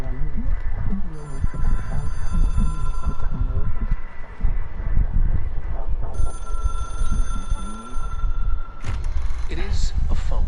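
A hotline phone ringing in the video game Control, repeated electronic bell bursts with pauses between them, heard under someone talking over the game audio.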